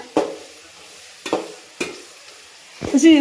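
Food is stirred in a hot pan on a home stove, with four distinct scraping, sizzling strokes spaced about a second apart, fairly close and loud, and no talk over them.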